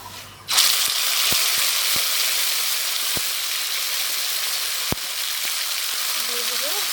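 Green chili paste hits hot oil already tempered with a bay leaf and whole cumin for a Bengali egg dish, bursting into a loud, steady sizzle that holds for several seconds, with a few sharp clinks of a spoon against the pan.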